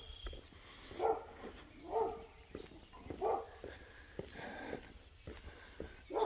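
Puppies on a farm bark and yip repeatedly in short bursts at a moderate distance, with whimpering between the barks and no talking.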